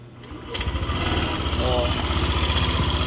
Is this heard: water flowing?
no